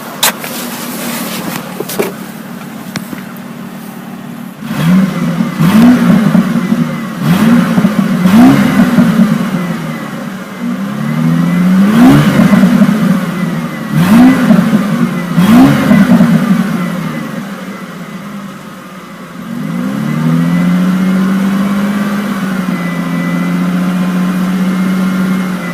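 A 2000 Ford Mustang Coupe engine rises through several loud, sharp revs with exhaust rasp over a steady idle, then settles into one long, smooth hold near the end.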